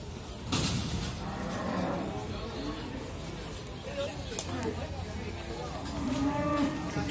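Cattle moo repeatedly at a livestock market in Muntilan, Magelang, with people talking nearby and steady background bustle.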